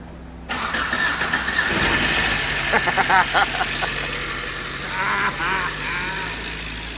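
A Suzuki Samurai with a swapped-in 2.0L engine cranks, catches and settles into a steady, fairly quiet idle, heard up close in a garage.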